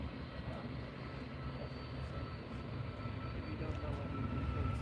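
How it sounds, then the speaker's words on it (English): Ryanair Boeing 737 landing on runway 23 right at Manchester Airport, a steady, broad engine roar held at moderate distance throughout, slowly building toward the end with no voices over it. "So coming over the ridge now of 23 right is Ryanair."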